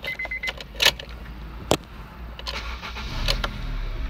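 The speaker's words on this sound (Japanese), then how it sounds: "ではちょっとエンジンかけてみたいと思います。" A Honda Integra Type R DC5 starting: a few clicks and a brief chime, a sharp crank, then a steady engine idle rumbling close by.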